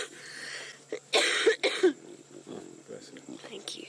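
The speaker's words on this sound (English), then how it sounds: "the lingering cough has stuck with me for a little longer than expected" A man with a lingering cough lets out a few sharp, close coughs in a quick cluster, a little throat noise around them, in a quiet outdoor setting.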